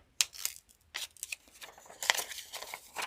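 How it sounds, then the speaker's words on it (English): Scissors snip through folded paper while cutting out a fox plush toy pattern, giving a string of crisp, close cuts with short pauses between them. "So I just kind of fold the paper and cut in the middle of them."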